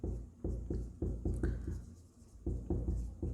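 Pen or chalk writing out accounting entries during a lesson, a steady series of short scratchy strokes and taps at a fairly quick rhythm, close and clear with no talk over it.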